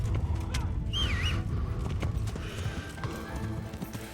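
Horse hooves in the medieval game Kingdom Come: Deliverance, a quick, loud clip-clop gallop running steadily close by, with a short whinny-like tone riding over it early on.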